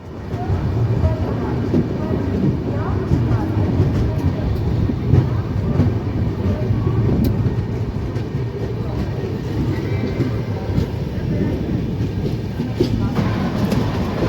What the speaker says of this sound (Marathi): रेल्वेच्या चाकांचा आवाज